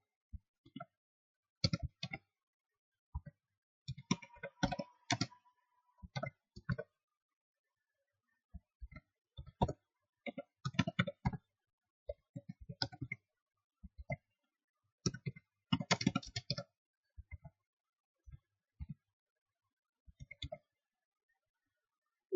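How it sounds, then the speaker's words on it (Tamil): Someone types on a computer keyboard in Notepad++. Close, crisp keystrokes come in irregular bursts and runs with brief pauses between them, over a quiet background with no talk. "Notepad++ இப்போ டைப் பண்ணிட்டு இருக்கேன்."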